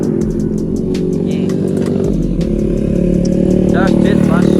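A motorcycle fitted with a PWK 28 carburetor, Brembo brakes and an aftermarket exhaust runs loud and close, its engine droning and rising in revs while people talk over it.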